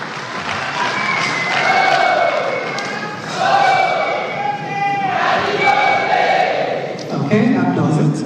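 An audience at a stakeholder forum breaks into applause and cheering, a loud, sustained crowd sound with clapping and raised voices swelling and fading over several seconds.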